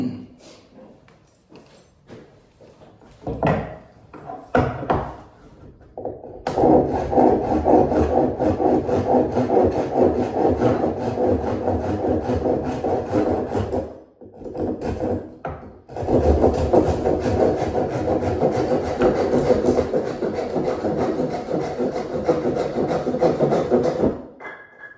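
A hand saw cuts through bamboo in long, steady rasping strokes that run loud and close, pausing briefly twice before resuming, after a few scattered taps and knocks at the start.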